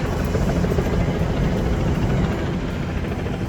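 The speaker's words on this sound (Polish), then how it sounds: "Helikoptery policyjne wiszą na niebie ponieważ mamy protest Palestyńczyków." Police helicopters hovering over a street protest in Miami, a loud, steady rotor drone filling the whole stretch without any talk.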